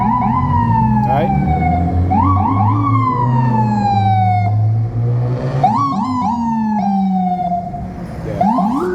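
An ambulance siren wails loud and close in New York, sweeping up and down through repeated cycles with a steady low engine drone beneath. Extra whooping bursts cut in partway through.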